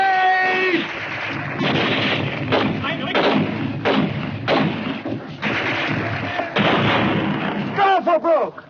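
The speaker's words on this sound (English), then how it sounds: "Grenade!" A grenade blast amid heavy artillery fire and gunfire in a war scene, loud booms and thuds repeating over nearly nine seconds with shouting voices mixed in.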